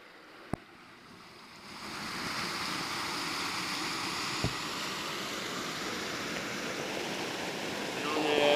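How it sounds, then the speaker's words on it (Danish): An icy mountain stream in the Bavarian Alps near Breitenberg, heard as a continuous rushing wash that swells and grows louder, with a couple of sharp clicks and no talk over it. "Lækre vandløb, de har hernede."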